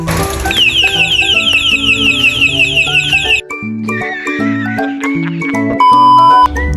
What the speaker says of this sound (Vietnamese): Vừa động vào xe là nó hú ngay lập tức luôn.